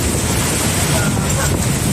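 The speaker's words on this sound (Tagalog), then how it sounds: "Lakas ng hangin guys." Strong typhoon wind roars continuously, buffeting the microphone with loud, dense rumbling noise and no pauses.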